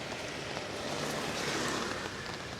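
Rain falls on a street in Da Nang in January, a dense, even hiss of drops spattering on wet pavement, steady and close throughout the short stretch with no voices.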